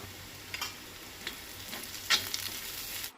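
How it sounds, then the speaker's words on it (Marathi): Onion and garlic frying in a pan for a Goan brinjal masala, a soft steady sizzle with a few brief scraping stirs of a spoon, close and fairly quiet, with no voices. "कांदो आनी लसूण लायट ब्रावन जायसर भाजूंक जाय।"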